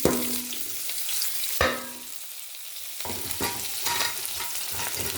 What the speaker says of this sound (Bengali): পেঁয়াজ কুচিটা একটু ভেজে নেব।